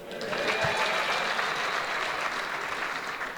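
Continuous crowd clapping from a comedy show audience in Rwanda, a dense, even wash of applause holding at steady volume throughout.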